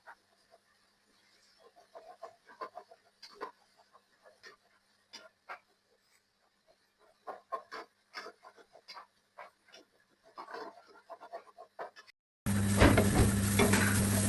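Leeks and beaten egg fry in oil in a pan, with soft sizzling and scattered spatula stirring taps heard close, followed by a sudden louder burst of noise at the end.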